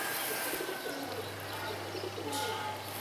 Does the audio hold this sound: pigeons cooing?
yes